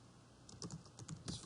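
Fast keystrokes on a computer keyboard, a few short bursts of clicks played close and fairly quiet over a steady low hum, with no voices.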